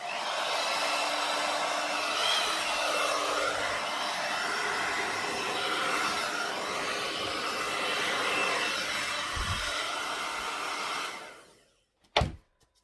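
A hair dryer blows steadily and loudly across an acrylic Dutch pour for about eleven seconds, then cuts off, followed by a short knock in the quiet.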